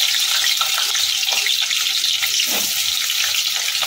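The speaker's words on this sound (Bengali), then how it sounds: "আলু আর পটল এগুলোকেও লাল লাল করে ভেজে নেব।" Potatoes and pointed gourd frying in hot oil for a Bengali potol rosha, giving a steady, loud, hissing sizzle that runs evenly throughout with no talking.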